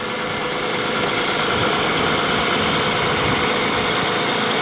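An engine idles at about 1100 RPM while still warming up and takes on an electrical current draw, giving a loud, steady, even rumble that holds unbroken throughout with no talk.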